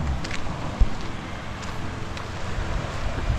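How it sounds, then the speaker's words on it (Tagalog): Steady seaside wind buffeting the microphone outdoors, a constant low rumble and rush with a faint thump partway through, no voices. "So mahangin, no? Mahangin ngayon dito."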